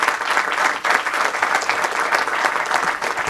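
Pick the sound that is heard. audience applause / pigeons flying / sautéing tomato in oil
audience applause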